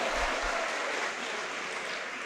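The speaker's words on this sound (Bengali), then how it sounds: "ওর জন্য একটা করতালি দাও।" Steady applause from an audience of students at a motivational school session in Narsingdi, Bangladesh, dense even clapping that holds for over two seconds at a fairly constant level with no voices over it.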